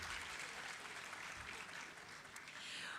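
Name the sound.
audience applause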